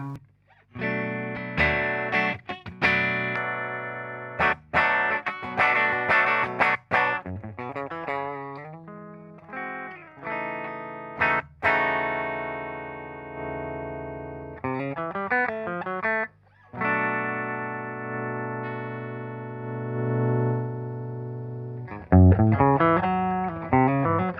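Distorted electric guitar playing chords and bursts of notes through a Bugera Infinium V22 tube amp with reverb on max, with sustained ringing stretches and sharp pauses, loud and close.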